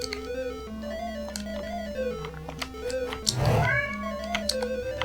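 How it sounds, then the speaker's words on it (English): Two cats meowing in the Mousetrap arcade video game, repeated electronic meows over a looping chiptune melody, with a burst of game noise midway, no talk. "Oh, I got 2 cats meowing at me."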